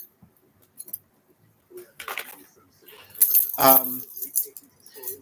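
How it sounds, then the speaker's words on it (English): A bunch of about ten keys is handled up close, giving scattered metallic jingles and clinks in short bursts, with a brief voice in between. "there's like 10 keys on here"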